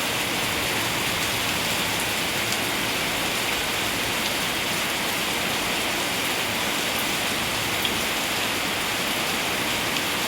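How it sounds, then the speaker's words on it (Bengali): Heavy rain pours down steadily at a home, a dense, even hiss of downpour with no letup, loud and continuous throughout with no voices. "প্রচুর বৃষ্টি হচ্ছে, প্রচুর।"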